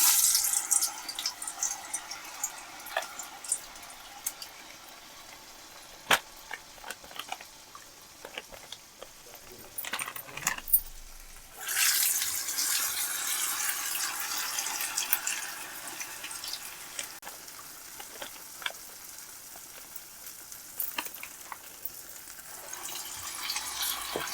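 Lentil-batter garelu go into hot oil for Sankranti paakam garelu, and a bright sizzling hiss bursts up midway and keeps bubbling, with light clinks of utensils through the quieter opening stretch.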